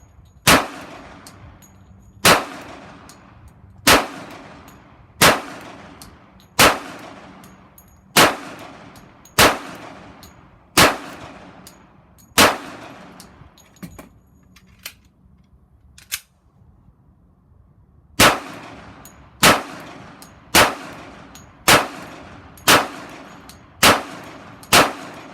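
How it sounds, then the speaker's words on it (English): An HK45 pistol is fired at a range in a slow, even series of loud, sharp shots with ringing decay, a brief pause partway through, then more evenly spaced rounds. "we're going to go to the range, and we're going to put a few rounds to the HK45"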